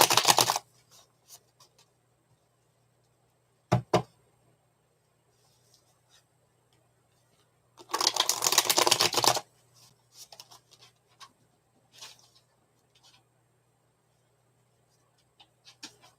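Tarot cards being shuffled by hand, a few quick riffling bursts, one longer flurry in the middle, and scattered light taps and slides against a quiet background.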